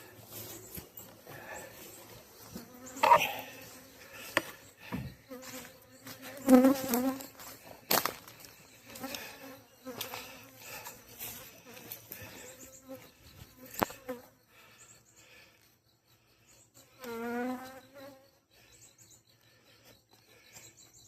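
A honeybee trapped inside a beekeeping suit buzzes close to the ear in intermittent loud bursts, with swelling whines between quieter stretches, and faint bird chirps outdoors in the background.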